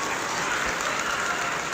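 Audience at a 2025 graduation ceremony applauding, a steady, dense wash of many hands clapping together, loud and continuous like rain, with no distinct voices.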